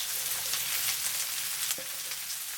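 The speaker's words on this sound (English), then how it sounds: "Stir for 2 minutes." Shrimp, onion and napa cabbage sizzle in a hot pan, a constant loud hiss with light crackles and a couple of soft clicks from stirring, no voices over it.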